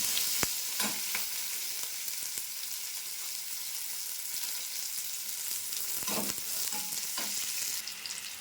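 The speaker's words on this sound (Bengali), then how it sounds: "দুটো বড় বড় পেঁয়াজ কুচি রেখেছিলাম এটাকে এবার লাল লাল করে পুরো ভাজা ভাজা করবো" Chopped onions sizzle and crackle steadily in hot oil, with occasional scrapes of a spatula stirring the pan.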